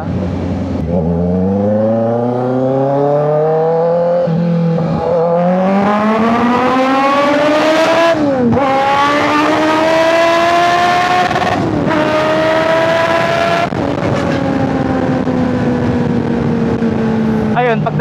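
Kawasaki Z900 motorcycle fitted with a full system exhaust revs hard, its engine note climbing through several loud rising sweeps with brief dips between gear changes, close and dominant throughout.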